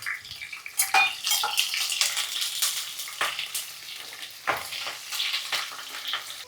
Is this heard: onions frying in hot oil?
yes